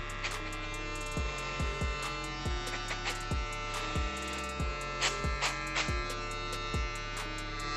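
An electric hair clipper runs with a steady, tonal buzz while being sprayed with cleaning fluid, broken by a series of sharp clicks and knocks at irregular intervals.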